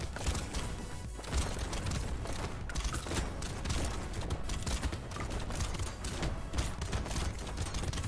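Rocket launchers fire nonstop in the arena shooter Brotato, a dense, chaotic barrage of rapid explosive bursts and clanking impacts packed together at an even, loud level throughout.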